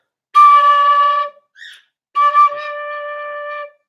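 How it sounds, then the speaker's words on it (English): Two sustained notes blown gently on a six-hole wind instrument, first with holes 1 to 6 covered, then with holes 1 to 5, each a steady breathy tone with a brief soft squeak between them, close and alone. "And cover holes 1 to 5 with fingers 1 to 5 and blow gently once."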